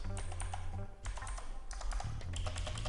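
Fast keystrokes rattle from a Redragon Kumara K552 TKL mechanical keyboard in dense bursts with short pauses between them, close and clear with no talking.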